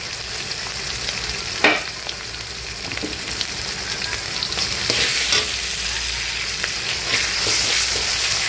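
A ground paste of ginger, garlic and cumin fries for biryani in a home kitchen, giving a steady, dense sizzle with occasional sharper scrapes and stirs against the pan.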